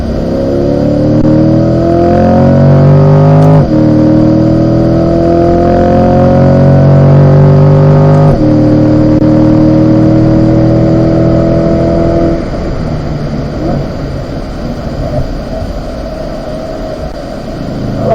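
A Chevrolet C8 Corvette laps a race track, its loud engine note climbing steadily through two quick upshifts, then dropping to a lower, rougher drone as the driver eases off.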